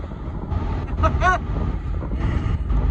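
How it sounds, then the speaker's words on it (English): Steady low road rumble and wind buffeting from inside a newly bought van on the move, loud and continuous, with a brief voice-like tone partway through. "I am driving my new van."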